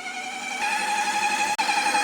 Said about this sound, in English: what you're hearing is the pump is sucking the water out of the carafe